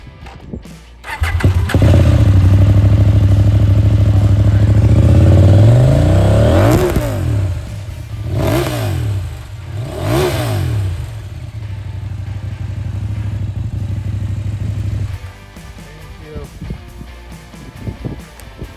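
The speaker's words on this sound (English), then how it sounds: "this is the Ramus exhaust" A Husqvarna Norden 901 motorcycle fitted with a Ramus exhaust starts up close by and settles to a loud, deep idle. It is then blipped through several rising and falling revs before dropping back to idle and cutting off.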